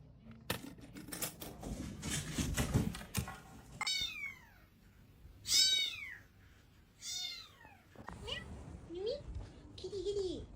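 A cat meows several times in short, rising calls spaced a second or two apart, close by, between bursts of rustling and a person talking to it.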